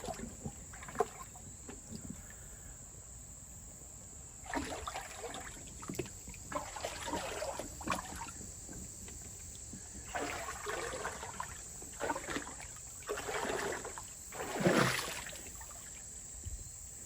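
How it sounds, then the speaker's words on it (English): Running river water flowing under a footbridge over a rocky bed, a steady close trickle and wash with bursts of splashing and movement through the water. "Got some good current flowing here."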